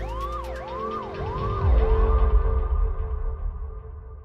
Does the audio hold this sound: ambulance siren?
yes